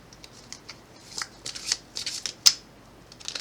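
Tarot cards being shuffled in quick, crisp bursts of riffling and sliding, close and fairly quiet, with a sharper snap near the end and no voices.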